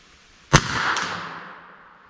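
A single sharp .38 Colt revolver shot is fired outdoors at a steel target 50 yards away, a loud crack followed by a faint second report and a long fading echo.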